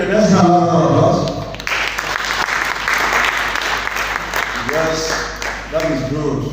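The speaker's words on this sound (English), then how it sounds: "let's have another applause" Audience applause at a live presentation, broad steady clapping filling the room from about 1 to 4.5 seconds, with speech or music-like voices at the start and end.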